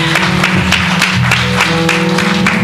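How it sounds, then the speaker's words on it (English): Church audience at a men's annual musical event clapping steadily and loudly, a dense continuous applause with sharp claps over sustained organ or music tones throughout. "Let's give him a hand clap."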